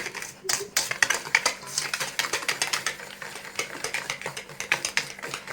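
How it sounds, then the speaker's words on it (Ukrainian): Paska dough with fresh eggs being stirred and whisked in a bowl, a fast, steady run of close clicking and tapping strokes against the sides. "Гарненько перемішуємо, збиваємо."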